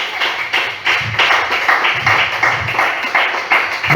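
Rhythmic clapping fills a church as the congregation applauds together in a steady, fairly close patter of hand claps that lasts several seconds, with no voices over it.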